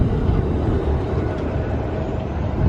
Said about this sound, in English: It's the sound that tram makes, to me, is just trams. And that, as the catenary rattles,